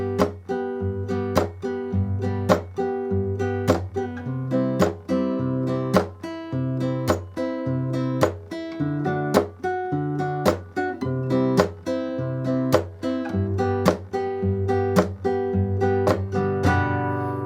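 Fast rhythmic flamenco guitar strumming with sharp percussive scrapes, a steady driving rumba pattern of bright chords and regular accented hits, played alone.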